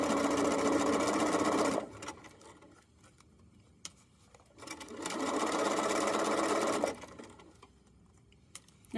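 A sewing machine stitches a fanny pack back panel in two close, steady bursts of rapid whirring, separated by a pause filled with small clicks and rustles of fabric being repositioned.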